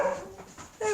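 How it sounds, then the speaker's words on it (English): Excited dogs bark and whimper in a short burst at a house, a few close yips and yelps over soft background noise. "But the dogs will probably go bonkers now."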